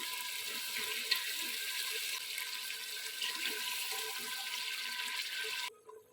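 Water poured steadily from a glass into a pot of potatoes and chana dal, a continuous splashing rush lasting several seconds before stopping abruptly.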